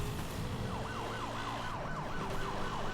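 Police car siren from the racing video game Need for Speed Hot Pursuit, a wailing tone sweeping up and down repeatedly over a steady engine drone, loud and continuous.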